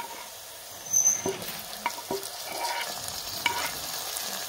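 Tomatoes stirred into a pan of frying vegetable curry, a soft steady sizzle with a few scraping stir strokes and spoon knocks, close and fairly quiet, no talking.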